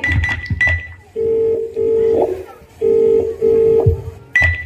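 A few quick phone keypad beeps, then a steady ringing tone sounds twice with gaps between as the call goes unanswered, and more beeps follow at the end.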